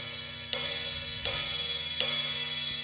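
An open hi-hat cymbal on a basic rock kit is struck with too little pedal pressure: three loose, sizzling hits about three-quarters of a second apart over a continuous washy ring.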